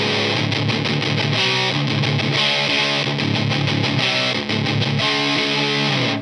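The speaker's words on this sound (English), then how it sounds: "I'm bringing the filter down there to make it cut through and be more like a distortion pedal as opposed to a fuzz." Electric guitar played through a Pro Co Lil' Rat mini distortion pedal with its filter turned down, giving a loud, dense distorted tone with chords and notes struck in a steady rhythm and no break.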